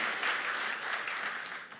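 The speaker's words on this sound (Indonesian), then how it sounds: "Beri tepuk tangan lagi buat Tuhan kita." A church congregation claps during a worship service, a dense continuous patter of many hands that stays steady and fairly loud for a couple of seconds without speech.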